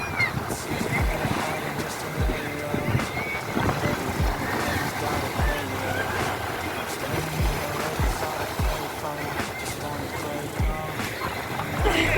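Waves break and wash up the sand at Pazhaverkadu beach, a continuous rushing surf close by with wind noise, while a person talks over it throughout.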